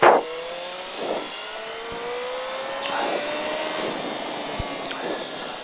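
A motorcycle engine revs repeatedly on a racing circuit at La Ferté-Gaucher, its pitch climbing through gear after gear, loud and close with short drops between the surges.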